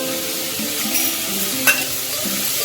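Turmeric goes into a sizzling pan of lentil curry and gets stirred. Steady close frying hiss plays with soft scraping stir strokes and a single small clink of utensil against pan.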